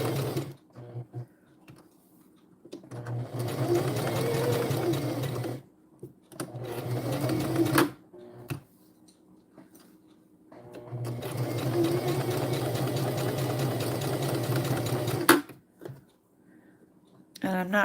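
A home sewing machine stitches a label onto a dress in two long, even runs, its close whirring separated by quiet pauses, with a voice speaking at moments between the runs.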